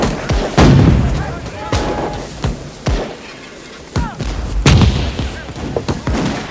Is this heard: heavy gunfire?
yes